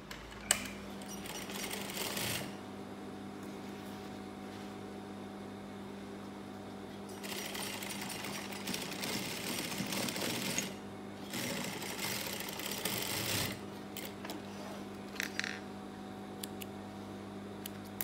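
A sewing machine with an ordinary presser foot stitches a sofa cushion cover in several bursts of rapid, even mechanical whirring, separated by quieter pauses and small clicks.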